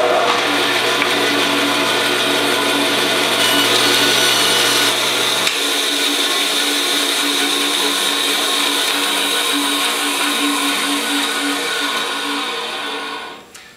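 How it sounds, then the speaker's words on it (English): A band saw runs steadily while cutting through wood, a loud continuous whine and rasp that holds for most of the stretch, then winds down and fades at the end. "this was Kenneth showing you how to use a bandsaw"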